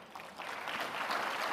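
Steady broadband applause from an audience welcoming the Rwandan Minister of Education, Gaspard Twagirayezu, at the opening ceremony of the INGSA 2024 science advice conference, a dense clapping wash that swells slightly and holds, with no voices over it.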